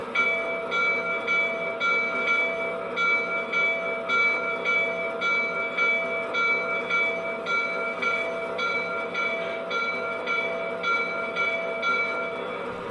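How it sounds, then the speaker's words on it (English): Rapid, even ringing from the electronic bell of a Lionel 2017 S-2 model diesel locomotive in a prewar-inspired freight set, heard steadily for several seconds at moderate loudness with no voices. "And here's the bell."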